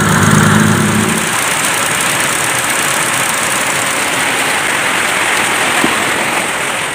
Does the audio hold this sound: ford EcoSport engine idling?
yes